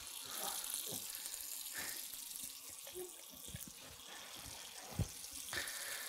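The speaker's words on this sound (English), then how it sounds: "So we're just gonna fill it up with some cold water to cool down the vessel" Cold water runs from a tap into a sink, a steady close gush with small splashes and knocks of the vessel, continuing for several seconds.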